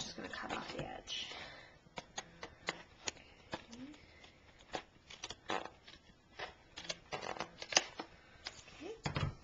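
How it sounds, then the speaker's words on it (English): A paper craft layer is trimmed along its edge with a cutting tool, giving a series of short crisp snips and crackles, close and fairly quiet. "I'm just going to cut off the edge."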